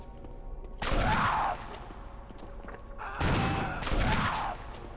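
Gunfire in a Resident Evil video game, two loud bursts of rapid shots, each lasting about a second, separated by quieter game ambience.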